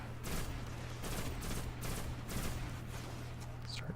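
Shotgun blasts ring out in the sci-fi shooter Destiny, repeated bursts of loud gunfire layered over a constant low game hum, with a voice faintly present underneath.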